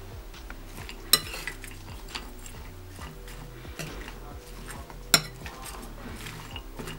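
Spoon stirring and scraping in a bowl as sliced onion, tomato, chilli, timur powder, salt, chaat masala and coriander are mixed into Nepali sukuti, a steady close clatter with a couple of sharp clinks.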